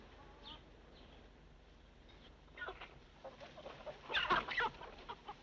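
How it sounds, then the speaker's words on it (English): Chickens cluck and squawk nearby on a farm in a 1948 western film, with scattered calls building to a louder flurry of clucking toward the end over a soft background hiss. "It's always good to have a few chickens on a reception committee, ain't it?"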